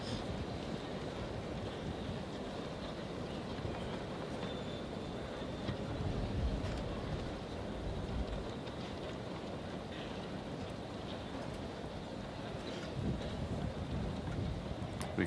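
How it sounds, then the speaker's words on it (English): Gusty wind buffets the microphone at an outdoor tennis match at the 1987 US Open final, producing a continuous low rumble that swells and fades in waves, with faint crowd ambience beneath. "Big gusty wind again now."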